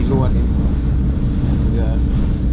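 A boat crosses rough sea with waves of 1.5 to 2 metres, giving a loud, steady roar of wind and water against the hull, close and continuous, with brief voices faintly in the background.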